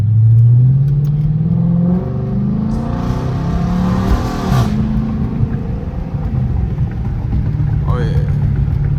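A Chrysler 300 Hemi with over 400 horsepower, driven at night in sport mode, revs up and pulls hard with a rising, loud engine roar. The engine stays strong at close range, and someone may be talking faintly over it.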